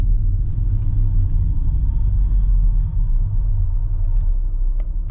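An Audi A6 C8 on the move with its automatic gearbox changing gears, heard from inside the cabin as a loud, steady low rumble of road and engine noise with a brief dip midway.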